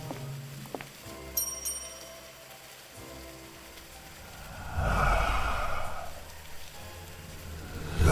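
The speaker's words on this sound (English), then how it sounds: "Well, there's a bell." A pushed service bell gives a few sharp metallic dings early on, each with a short ringing decay. Scattered clicks and thuds follow in a quiet room, then a louder rustling burst near the middle.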